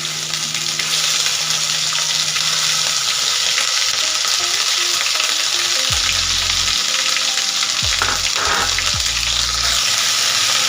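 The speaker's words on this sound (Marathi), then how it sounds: "तर तेलामध्ये ग्रेव्ही ना तेल सुटेपर्यंत परतून घ्यायची" Chana masala gravy frying in oil with cumin and curry leaves, a loud continuous hiss up close, with a few scraping stirs and clanks toward the end and no voices.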